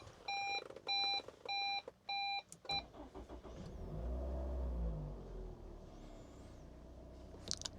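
Toyota Alphard G Premium Sound 2012 minivan: a series of electronic dash chimes beeps in short bursts, then the engine cranks and catches into a low, steady idle rumble inside the cabin, with no talking.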